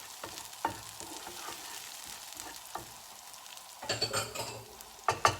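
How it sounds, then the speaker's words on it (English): Cumin seeds and browning onions sizzling in a pan as a spoon stirs them together, a soft steady fry broken by scraping stirs and sharper clatters near the end. "the onions are starting to brown a bit now, so we'll add our cumin seeds, and I've put a teaspoon inside and mix that all together."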